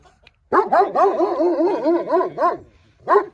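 A female Rottweiler barks in a quick run of yelping, whining barks, several in close succession, then one more after a short pause; loud and near.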